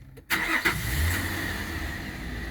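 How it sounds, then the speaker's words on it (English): A 2005 Nissan Elgrand with a 3.5-litre V6 cranks briefly and fires up, settling into a steady, close, loud idle after the catch. "Houston, we are going for ignition."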